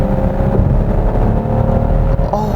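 A Hyundai Grandeur GN7 AWD with a six-cylinder engine accelerating on a highway in sport mode, a loud, steady low engine drone with road rumble heard from inside the cabin, with no voices.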